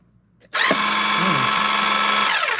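A VEVOR 12V portable 5-ton electric car jack motor whirs steadily after a sharp start, a loud continuous mechanical drone with a high whine that holds for about two seconds.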